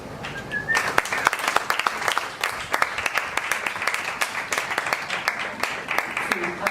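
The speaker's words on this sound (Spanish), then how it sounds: "Sí, aplauden, gracias" A theater audience applauds a stage performer continuously, with dense crackling claps throughout and a voice speaking faintly beneath.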